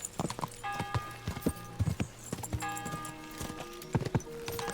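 Horse hooves clip-clop steadily while riding in the medieval video game Kingdom Come: Deliverance, a rhythmic trot with jingling tack and a sustained musical tone underneath, fairly close and without talk.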